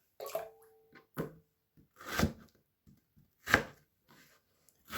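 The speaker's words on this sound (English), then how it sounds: "And just start cutting them in chunks and then put them in water." A knife cuts potatoes into chunks on a board, five or six sharp, separate chopping strokes at an uneven pace, close and clear with quiet gaps between.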